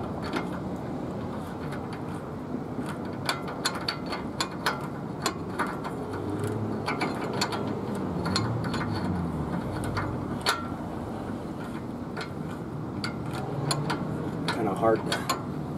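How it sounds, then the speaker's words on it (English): A ratcheting spindle nut on a 1985-1994 Ford F150 4x4 front hub gives repeated close metallic clicks and ratchet taps in irregular bursts, with low handling noise between them. "Okay, now it's going on. You can kind of hear it ratcheting."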